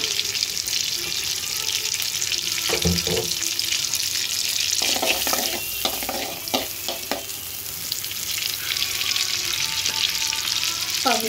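Cut vegetables hit butter and oil in a pan for vegetable fried rice, setting off a steady hiss of frying, broken by a few clattering stirs and scrapes of a utensil.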